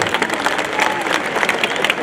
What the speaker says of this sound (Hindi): एक बार इनको ताली बजाकर धन्यवाद जरूर दो।